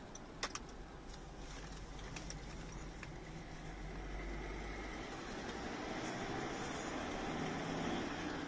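Mazda BT50 / Ford Ranger on a road test after intercooler hose replacement, heard from inside the cabin as a steady low engine and road drone that rises slightly, with a few faint clicks near the start.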